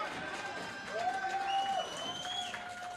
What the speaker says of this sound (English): this crowd here in Bayville loving Nikolai White